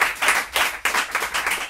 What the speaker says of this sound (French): On peut l'applaudir encore une deuxième fois.